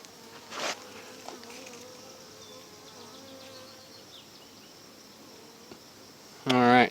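Honey bees buzzing and droning nearby at an open hive during requeening, a few passing close with brief louder bursts, over quiet background.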